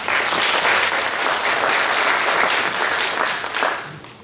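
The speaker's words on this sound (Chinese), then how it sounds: "那我们热烈掌声欢迎 Work" An audience claps warmly to welcome a speaker at an ArcGIS platform presentation, a dense, sustained wash of applause that holds steady and then tapers off near the end, with no voices.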